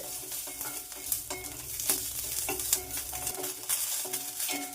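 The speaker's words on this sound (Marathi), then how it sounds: "ह्या मिरच्या कढईमध्ये घालून घेत आहे मिरच्या देखील या तेलात आपल्याला मोडसर करून घ्यायच्या" Green chillies crackle and sizzle in hot oil in a wok, with repeated metal stirring clinks and scrapes at an uneven rhythm, close and fairly loud.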